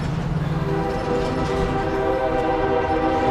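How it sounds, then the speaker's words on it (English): A train rolls through a small town's old quarter, its horn sounding in long, steady tones over the rumble of the rail cars. The blast is loud and carries through the whole stretch. "Well, the train still comes through"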